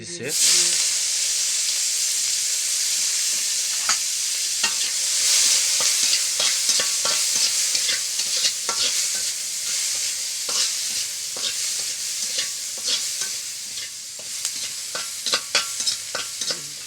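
Meat cooking in hot oil with bay leaves, a loud, close, steady sizzle and hiss with frequent scraping stirs and clicks from a utensil against the pan.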